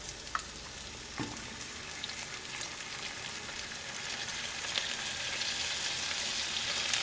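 Chopped banana heart and seasoning hitting a hot pan, giving a steady hissing sizzle that builds and stays dense, with a couple of brief clinks near the start.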